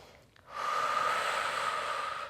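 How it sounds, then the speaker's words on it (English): Deep, steady exhalation out through the mouth during a calm Pilates stretch, a long breathy rush that swells after a faint intake and holds evenly, close and clear with no talking. "Breathing deeply in through the nose and out through the mouth."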